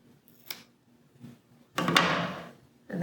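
Scissors trim the yarn tail feathers of a craft bird, giving a few short snips and one longer rustling cut, close and quiet with no talking.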